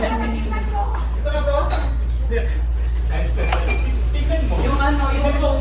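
A spoon clinks and scrapes against a cup while coffee is stirred at a café, with light rhythmic metallic taps close by and people talking over a low steady hum.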